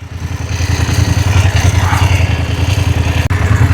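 Motorcycle engine idling steadily up close while being parked in a motorcycle parking spot, a low continuous rumble with light mechanical clatter and no talking.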